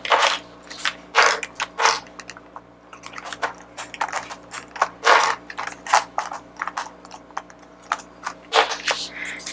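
Clips being pulled off a planner give sharp plastic snaps and clicks in irregular bursts, close and distinct, with a faint steady hum beneath.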